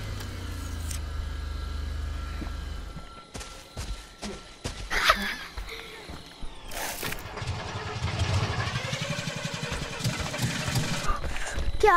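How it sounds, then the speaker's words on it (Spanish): A car engine in the Friday the 13th game cranks and catches amid clicks and footsteps, then settles into a rough, rising idle that grows louder toward the end, with faint voices in the background. "¿A dónde arrancas el coche?"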